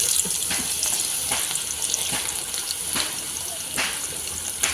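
Food fries in hot coconut oil with salt and turmeric, a steady hiss and crackle with scattered sharp pops and spatters throughout, close and continuous.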